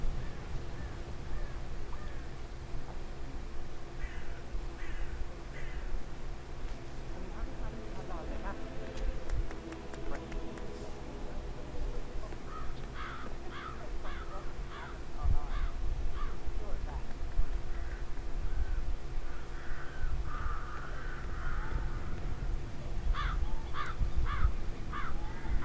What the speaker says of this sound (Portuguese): Damn birds.